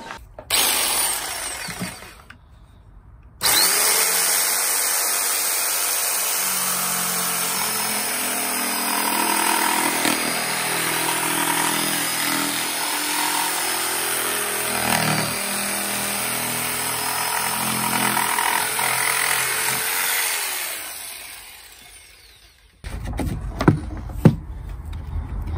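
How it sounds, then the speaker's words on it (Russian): A DCA AMQ65 electric jigsaw runs at a steady, loud buzz while cutting for about twenty seconds, starting abruptly after a short quiet lead-in and stopping near the end, followed by a few brief knocks. "Ну, естественно, ровного реза вы с помощью лобзика не добьетесь."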